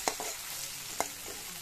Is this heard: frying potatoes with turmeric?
yes